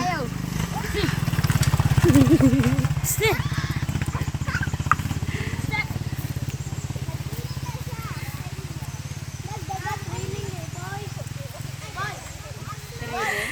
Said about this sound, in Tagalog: Nagdagan ng kabayo.